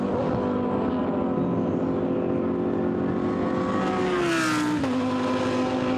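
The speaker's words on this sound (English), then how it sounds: "So down the pit road comes Niederhauser" A Blancpain GT Series endurance race car at Monza rolls down the pit road during pre-qualifying, its loud steady engine drone holding then dropping in pitch as it passes close by.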